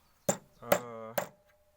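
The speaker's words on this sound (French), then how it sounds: "Ce que je fais pour peaufiner, c'est que je vais prendre un tas et un marteau." A steel hammer strikes sheet metal held on a metal stake three times at an even pace, each blow a sharp close clang, one ringing briefly with a metallic tone.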